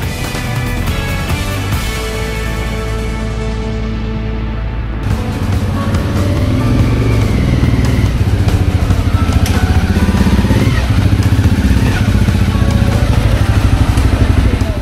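A motorcycle engine drones steadily throughout on a winding forest road in southern Thailand, its pitch rising and falling as the rider shifts and leans through bends, close and loud with no talking.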